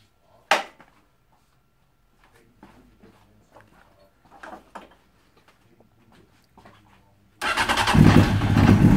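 Honda Fireblade sport motorcycle, heard first through scattered quiet handling clicks and knocks, then its engine abruptly catches and settles into a loud, close, steady run for the final second and a half.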